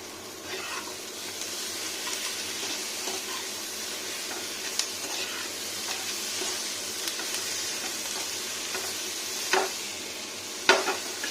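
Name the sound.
tomatoes added to a pan of frying broccoli and sizzling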